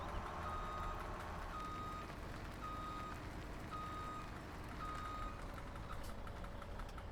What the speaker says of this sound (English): Now let's see if the dump truck dumps.